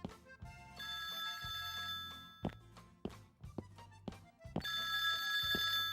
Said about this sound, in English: Yeah, the phone's ringing.